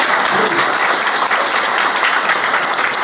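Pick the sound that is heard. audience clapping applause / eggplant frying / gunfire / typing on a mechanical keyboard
audience clapping applause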